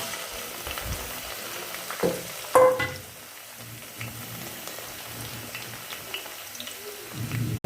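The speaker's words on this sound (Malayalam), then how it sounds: "ഇനി നമുക്ക് ഓയിലിലേക്ക് ക്യൂബാക്കി അരി അരിഞ്ഞ് വെച്ച സവാള ചേർത്ത് വെക്കാം" Chopped onion cubes sizzle in hot oil for chilli chicken, a steady crackling fry with a couple of louder bursts as they hit the pan and a scrape near the end, no talking.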